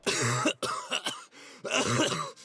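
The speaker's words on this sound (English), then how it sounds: "launches into a violent fit of coughing" A game character's violent coughing fit in Pillars of Eternity 2: Deadfire, harsh hacking bursts in rapid groups with brief gasping pauses, loud and close.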